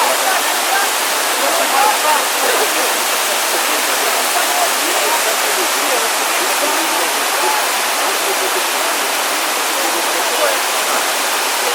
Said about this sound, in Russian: Сердце Карпат, Крушатский водопад.